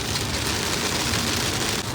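Dense, steady rain roars loudly and continuously, a thick hiss of drops pounding a surface with no pauses or voices.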